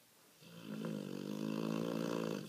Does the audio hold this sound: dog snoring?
yes